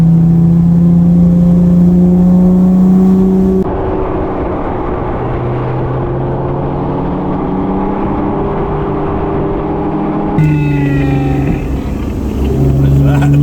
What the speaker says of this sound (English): I heard the engine.